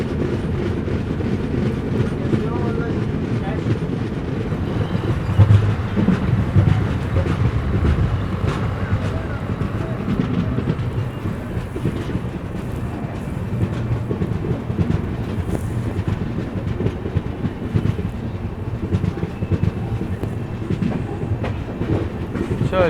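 Andhra Pradesh SF Express train running on rails, heard from onboard as a steady loud rumble with rhythmic clatter of wheels over joints and buffeting wind noise throughout.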